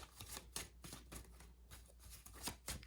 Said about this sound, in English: let's just shuffle the cards and let them tell us what they're trying to do